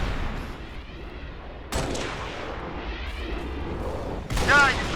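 Gunfire from the Halo: Reach game on Xbox 360, played on Legendary difficulty, in sustained bursts with two louder surges, alongside a speaking voice.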